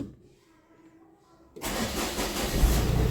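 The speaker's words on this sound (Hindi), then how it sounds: "2 दिन से गाड़ी खड़ी थी, कमाल हो गया। पहली सेल्फ में स्टार्ट।" A car engine cranks and catches on the first press of the self-starter after the car has stood unused for two days, moving from near quiet to a loud, steady running engine partway through.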